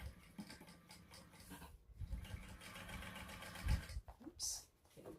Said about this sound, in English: I'll stitch that on at 1/8 of an inch seam allowance on both sides